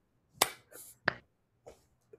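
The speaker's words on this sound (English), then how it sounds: "Clap." Two sharp, close hand claps ring out, spaced about half a second apart, with a softer breathy voice sound between them and a faint tap near the end in an otherwise quiet room.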